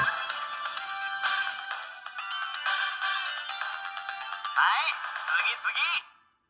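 Bright, busy chiptune-style game music plays steadily at moderate volume from an Anbernic RG35XX handheld, with quick melodic runs, then cuts off abruptly near the end.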